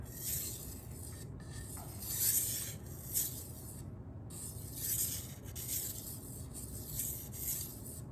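Knife blade drawn across a sharpening stone in light passes, several soft, quiet raspy strokes with short pauses between them, close by.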